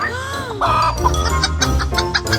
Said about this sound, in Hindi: ओह, हेलो मुर्गी।